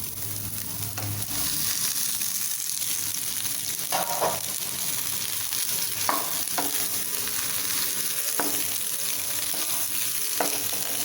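Cooked rice being stirred gently through fried egg in a pan over a steady sizzle, with soft intermittent scraping strokes from a spatula spaced every second or two.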